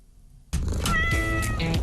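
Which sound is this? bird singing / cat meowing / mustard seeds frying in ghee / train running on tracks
cat meowing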